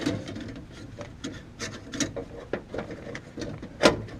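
A hand ratchet turns a nut on a car window regulator during a repair, giving a quiet, irregular series of short clicks and rasps with scraping handling noise, close by and with no talk.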